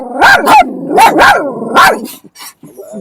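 Dogs bark loudly and close by in a quick series of about four sharp barks, followed by fainter yips and a low whine.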